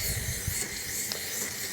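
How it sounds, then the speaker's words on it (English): Carburetor cleaner sprays into a Massport Olympic cylinder mower carburetor, hissing continuously for a couple of seconds, close and fairly loud, with a faint clink near the middle. "Bit of carburetor spray in here."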